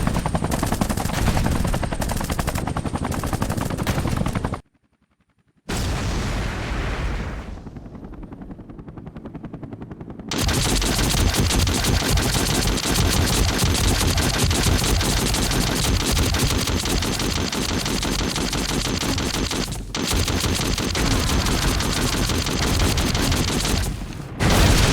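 Enemy machine-gun fire crackles in rapid bursts in the Vietnam War flight game Air Conflicts: Vietnam, mixed with a droning helicopter. There is a brief silent break, then dense, continuous fusillades.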